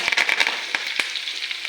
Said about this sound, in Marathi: त्यासाठी एक जरा जादाच 2 पळ्या तेल घातले आणि नेहमीप्रमाणे फोडणी करायची. जिरे, मोहरी आणि लसूण,